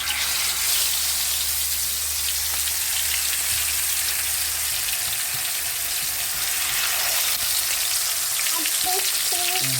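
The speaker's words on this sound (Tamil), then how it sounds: "இப்போ வந்து எண்ணெயும் ஹீட் ஆகிடுச்சு மீன் வந்து வறுத்துக்கலாம்" Murrel fish frying in hot oil: a loud, steady, close crackling sizzle that runs unbroken throughout, with faint clinks near the end.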